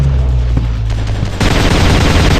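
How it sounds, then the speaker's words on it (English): Gunfire in a commando-style shooting session, a dense rattling burst of rapid shots that thickens into continuous loud fire partway through, close and harsh with no clear talk. "I'm shooting these fools up!"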